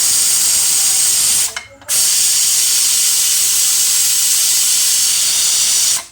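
Loud, continuous hiss of steam rushing from a pressure cooker after cooking chicken curry, cut off briefly for a moment before resuming strongly.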